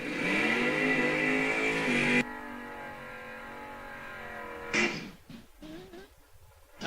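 A drag racing car revs loudly at the strip for a couple of seconds before cutting off abruptly, followed by quieter crowd and engine noise with another short burst of revving and a voice talking.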